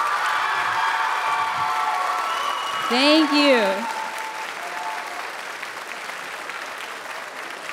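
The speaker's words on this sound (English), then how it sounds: "can we get another round of applause for our BSU" A school audience at a Juneteenth celebration applauds steadily under a brief spoken thank-you and a short whistle-like tone midway, the clapping carrying on at an even level to the end.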